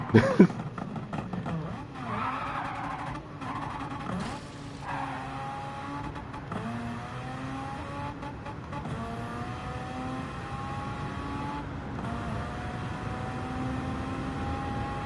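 A Mazda Miata in Gran Turismo 7 revs and accelerates after a sharp opening burst, its engine note climbing steadily through gears, a continuous close drone with faint tire noise.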